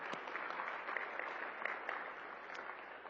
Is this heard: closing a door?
no